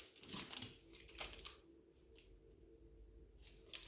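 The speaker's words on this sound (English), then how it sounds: "I'm just going to cut it in half." Scissors snip through material to cut it in half while making planter legs with Paverpol, several close, crisp cutting strokes followed by quieter rustling.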